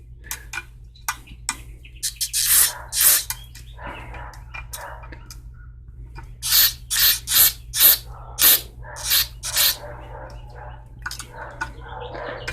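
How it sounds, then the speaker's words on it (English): Repeated hissing bursts from an aerosol can cleaning the passages of a Briggs & Stratton engine on a vintage Sears mower, short sprays then a run of longer, evenly spaced blasts, close up with quiet clicks between. "we'll just spray those passages out again"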